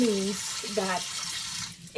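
Water runs steadily from a tap during handwashing in a home kitchen while making cinnamon glazed banana balls. A continuous hiss of flowing water sits under a person talking.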